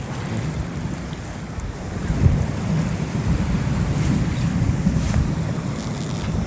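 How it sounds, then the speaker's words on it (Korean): Gusting, swirling wind buffets the microphone at a rocky fishing spot on Maando island in Namhae, a constant low roar with faint surf underneath and no speech. "지금 돌아치는 바람인데 여기 바람을 좀 막아줘요"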